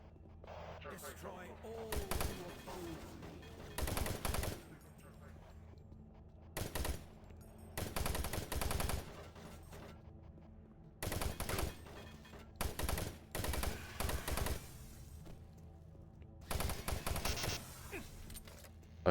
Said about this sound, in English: I'm surprised I have enough ammo for a machine gun.